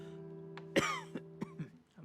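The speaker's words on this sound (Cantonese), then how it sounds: "唱到氣都咳埋" A person coughs several times after singing, starting with one strong, harsh cough and followed by smaller throat-clearing coughs, close and fairly quiet in a still room.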